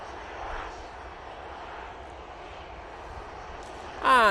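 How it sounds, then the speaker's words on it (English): A Loganair ERJ 145 regional jet taxis at a busy airport, giving a steady, fairly distant engine whine and rumble that holds evenly, with a brief louder burst at the very end. "next out will be the Logan Air ERJ 145 coming down taxiway back to Bravo"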